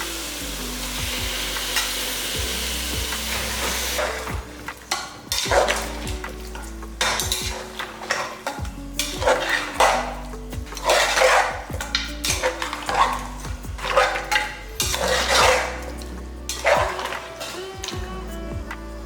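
About 1.5 kg of washed mutton sizzles loudly in a hot pan while a spoon repeatedly scrapes and clatters against the metal, giving a steady frying hiss broken by rhythmic stirring strokes with no talking.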